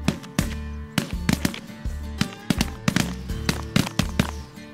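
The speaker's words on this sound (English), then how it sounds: "Good shooting, boys." Shotguns fire during a duck and goose hunt: a rapid, uneven volley of about a dozen sharp, loud blasts, some overlapping, over a steady low rumble.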